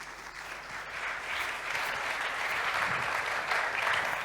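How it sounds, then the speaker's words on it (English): Steady applause from a conference audience greeting a panel at a cyber resiliency industry session, broadband clapping that swells slightly after the first second and holds at an even level with no talk over it. "Let's give them a round of applause."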